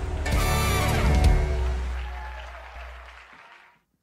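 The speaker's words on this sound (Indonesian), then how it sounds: "Tepuk tangan bagi Tuhan kita Yesus Kristus ya" A Sunday church congregation claps for Jesus Christ, loud and close, over a sustained band chord that rings under the clapping before both fade away.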